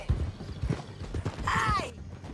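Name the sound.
horse galloping in Red Dead Redemption 2, a video game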